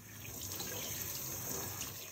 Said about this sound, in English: give it a good scrubbing with some warm and soapy water to get rid of all this dust and grime